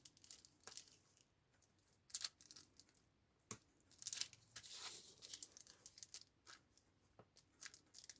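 Double-sided tape being peeled in short crackling rips, with a longer louder tear near the middle and scattered faint clicks and paper handling around it, quiet and close with no talking.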